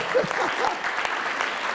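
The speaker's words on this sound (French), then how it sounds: "Donc on peut l'applaudir, elle a fait de la radio." Applause from a live audience at a local stage event in Saint-Pargoire, moderate and fairly steady with a few voices mixed in.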